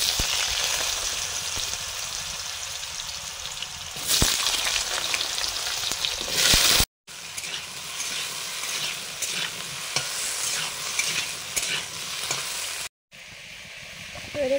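Potatoes fry with black cumin in hot oil, a loud, dense sizzle that runs steadily, broken by stirring and two brief cuts to silence.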